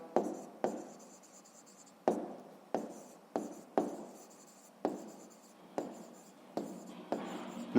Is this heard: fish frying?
no